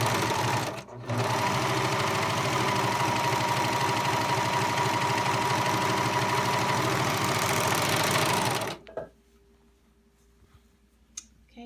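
A 4-thread overlock serger sews a seam in one long, loud, steady run of fast mechanical whirring after a brief start, then stops abruptly, leaving quiet room tone with a faint click.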